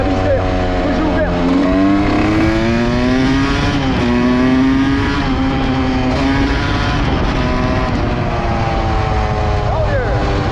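A Honda CR two-stroke dirt bike engine with a tuned carburetor revs loudly and steadily near the listener, its pitch rising and falling over several throttle blips, with someone talking over it.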